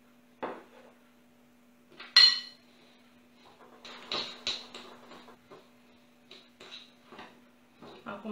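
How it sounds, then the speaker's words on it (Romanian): A spoon or whisk works 125 grams of butter into sugar in a bowl for a Romanian cottage-cheese and chocolate pasca, with intermittent close scrapes and light clinks against the bowl over a faint steady hum, with no voices. "Și o să-l amestecăm cu zahărul."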